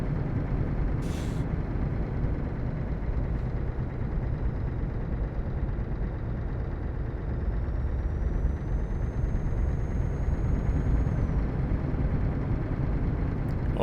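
A truck rolls by close on a road with steady broadband rumble and road roar throughout, a faint rising whine over the latter half and a brief hiss near the start; no talking.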